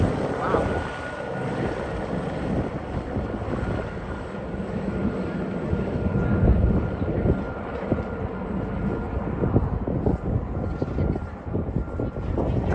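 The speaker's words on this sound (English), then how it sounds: "it should only be a couple of minutes until the helicopter leaves." A helicopter's steady engine and rotor roar in winter in Tromsø, loud and continuous, holding close before slowly easing off as it flies away.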